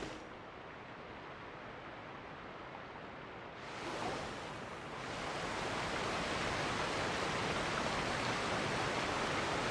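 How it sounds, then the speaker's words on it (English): Loud rushing water near a boat dock in the video game Genshin Impact, a dense, steady roar that swells after a brief dip and then holds constant. "Oh god, the water is so loud."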